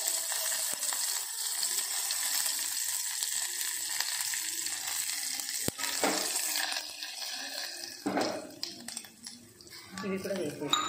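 Cashews and peppercorns frying in a pan for wheat rava and moong dal pongal, a steady broadband sizzle running throughout, with a brief knock near the middle and a quieter, patchier stretch toward the end.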